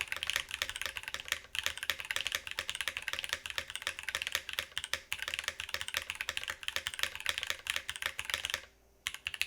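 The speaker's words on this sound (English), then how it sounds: "We're using Emo Go-Go switches and then a cherry switch for the space bar here. And GMK keycaps." Fast, continuous typing on a mechanical keyboard fitted with Emo Go-Go switches, a Cherry-switched space bar and GMK keycaps, crisp close clacks in an even rapid stream that stops briefly near the end, with no talking.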